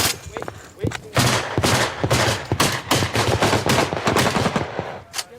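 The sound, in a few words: machine gun firing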